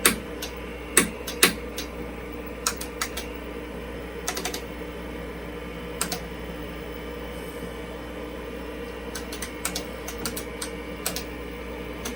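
Computer keyboard with a faulty I key being typed on, a sparse run of sharp clicks and small bursts of keystrokes over a steady background hum, close and fairly quiet, with no talking.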